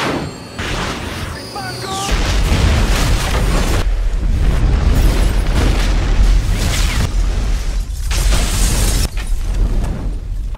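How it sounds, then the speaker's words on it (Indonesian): A deep booming blast erupts, followed by a sustained roar of rumbling debris and crackling, loud and close, lasting several seconds. "Tempat itu meledak."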